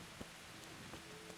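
Steady rain falling in the video game Kingdom Come: Deliverance, a soft, even hiss of drops with a few faint taps, quiet and alone.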